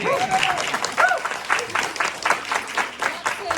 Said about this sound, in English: big applause, please, for the company.